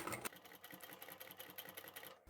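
Sewing machine stitching facing fabric onto a quilt, a quick even run of needle stitches in a rapid rhythmic chatter, close and fairly quiet, stopping abruptly at the end.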